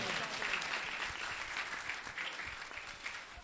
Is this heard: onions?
no